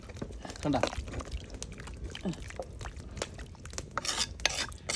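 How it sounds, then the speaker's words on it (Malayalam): A spoon stirs curry in a pot after tamarind juice has been squeezed in, giving scraping and clinking sounds and some liquid sloshing. Voices talk over the stirring. "വാളംപുളി പിഴിഞ്ഞു ഒഴിച്ചിട്ടുണ്ട് നല്ലോണം പുളി ഒഴിച്ച് നല്ലോണം ഒന്ന് ഇളക്കി കൊടുക്ക"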